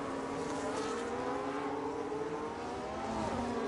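A race car engine revs high and steady in a racing video game, giving a loud continuous whine that climbs slightly across a few seconds, with no pauses.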